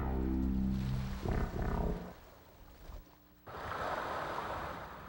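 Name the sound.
ocean waves crashing against a rocky shore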